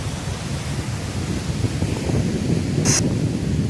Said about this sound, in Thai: พายุมันเข้าลมมันแรงขึ้นสูงนิดนึงนะ